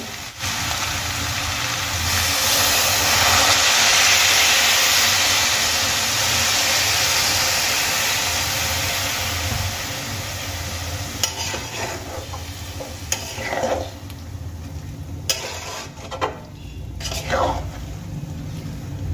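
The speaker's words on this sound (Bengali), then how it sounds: "এবার আমি এর মধ্যে দিয়ে দেব পরিমাণ মতো জল" Cabbage and mixed vegetables cooking in a pan as water goes in, a loud broad hiss and sizzle swelling for several seconds, then easing into quieter bubbling broken by a few sharp utensil clicks.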